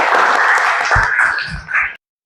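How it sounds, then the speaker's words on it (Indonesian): Classroom students clapping together in a brief, steady burst of applause that fades out after about two seconds. "Tepuk tangan buat kita semuanya."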